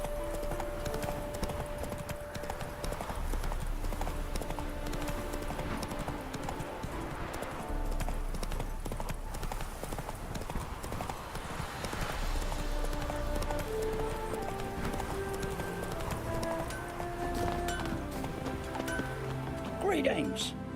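Horse galloping in a video game, with rapid rhythmic clip-clop hoofbeats running steadily throughout under game music and a voice speaking briefly.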